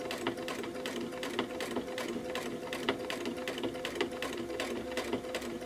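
A sewing machine runs a rapid, even stream of tiny stitches while micro quilting, the fabric moved only a little at a time, with the needle's tick-tick rhythm steady and close throughout.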